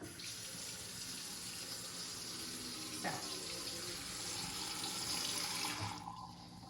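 Hot water runs from a kitchen faucet for salt water to wash strawberries, a steady hiss that continues throughout and thins out near the end, with a voice speaking briefly.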